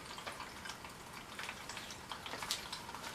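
Liquid drains from a rusty fuel tank through a large funnel into containers, a steady faint trickle and splatter with a continuous watery hiss and no talking.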